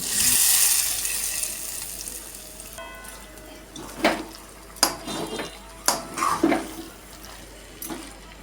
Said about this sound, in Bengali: এখন দিয়ে দিচ্ছি সর্ষের যে ফোড়নটা তৈরি করেছি সেটা